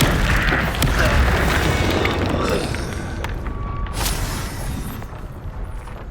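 The deep rumbling boom of a Descendo spell slamming a target down in Hogwarts Legacy, loud at first and fading over several seconds beneath ongoing game ambience.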